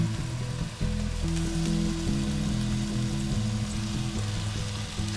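Tuna sizzling and searing in a hot pan, a steady dense crackle of frying that runs continuously throughout at close range, with a faint low hum underneath.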